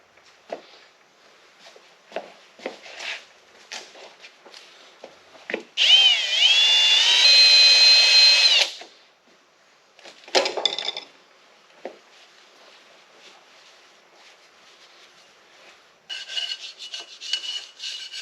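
A power tool cleans a gasket surface on the front axle hub of a Kioti CK2610 tractor, giving one loud, sustained grinding whine of a few seconds amid quieter scattered scraping and tapping.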